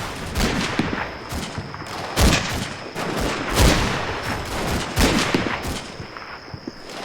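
Rapid gunfire crackles and bursts in a Combat Mission: Fortress Italy battle, repeated loud volleys and machine-gun rattles in irregular clusters, with no talking over them.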